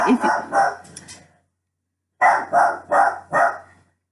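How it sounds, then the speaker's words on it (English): A dog barks in two bursts: three quick barks, a pause of about a second, then four loud, evenly spaced barks close by. "he was on a barking meltdown because somebody was passing our house"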